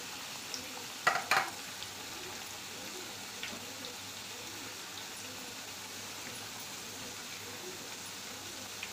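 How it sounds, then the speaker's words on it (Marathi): Potato wafers fry in hot oil with a steady, hissing crackle from start to finish, with a couple of brief clinks near the beginning. "एक एक वेफर मी तेलात टाकून घेते"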